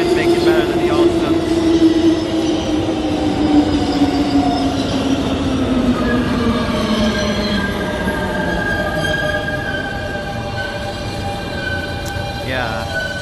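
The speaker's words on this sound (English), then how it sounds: "Yeah, there is a Q train coming." Siemens R160 cars on a New York subway Q train arriving, wheels squealing in long falling and rising tones over a steady rumble, loud and close, with a voice talking briefly.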